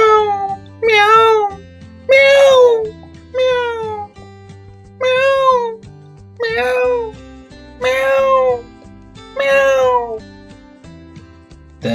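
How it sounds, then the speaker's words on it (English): Kittens meow in a steady series of about eight clear, close cries, evenly spaced over soft background music in a children's bedtime rendition of the Three Little Kittens poem. "Meow, meow."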